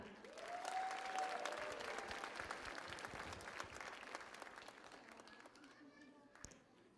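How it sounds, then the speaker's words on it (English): A big round of applause for young award winners at a school awards ceremony, dense crowd clapping that swells early then slowly thins and fades, with voices and a whistle-like cheer over it. "Un gran aplauso para todos estos jóvenes que acaban de ganar esta premiación"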